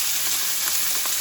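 Meat sears in a hot cast iron skillet with a steady, close sizzle that holds for about a second, with no voices.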